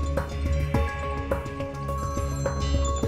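Many mobile phones ring at once, their overlapping electronic ringtones and melodic tones stacking into a dense, busy jangle of repeating beeps and chimes, fairly close and without speech.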